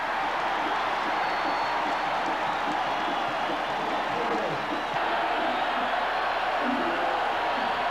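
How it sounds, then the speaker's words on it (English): A loud football stadium crowd roars continuously during a 1983 Tennessee versus Alabama college game, a dense wash of cheering and shouts underneath a play-by-play announcer's voice. "The crowd is loud. You can hear it"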